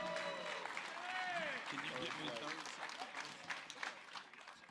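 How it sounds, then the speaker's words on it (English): Audience at a crappie fishing tournament event gives a round of applause, fairly faint steady clapping with a few voices and cheers mixed in. "Let's give Billy a big round of applause"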